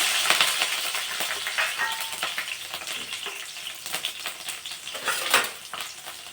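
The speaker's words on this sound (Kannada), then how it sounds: "ಇವಾಗ ಇದಕ್ಕೆ ನಾನು ಹಸಿಮೆಣಸಿನಕಾಯಿನ ಹಾಕ್ತಾಯಿದ್ದೀನಿ." Green chillies frying in hot oil, a close, steady sizzle with scattered crackles and light stirring clinks, and no one talking.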